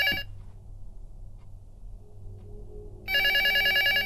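A telephone rings in the horror video game LUTO, a loud electronic trill bursting in briefly at the start, then a quiet pause before the steady ringing returns near and sustained.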